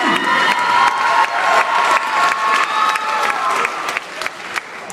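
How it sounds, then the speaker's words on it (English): A high school audience at a hypnotist show claps steadily and cheers, dense applause with distinct sharp claps and some voices, tapering slightly toward the end. "Ladies and gentlemen, a nice round of applause right here."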